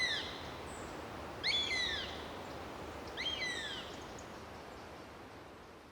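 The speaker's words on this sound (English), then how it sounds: "The mew of the buzzard." A buzzard gives two descending mewing calls about two seconds apart, clear but moderately distant over a steady outdoor wind-like background hiss.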